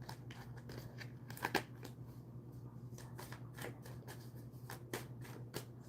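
Tarot cards being shuffled close by, quiet crisp riffling snaps and rustles repeating irregularly over a low steady hum.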